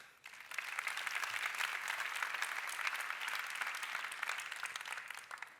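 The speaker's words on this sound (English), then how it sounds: "So give them a hand of applause." Sustained audience applause at a business conference keynote, a dense even wash of many hands clapping steadily for several seconds, fairly distant, with no speech over it.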